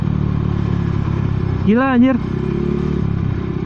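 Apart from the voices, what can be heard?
motorcycle engine running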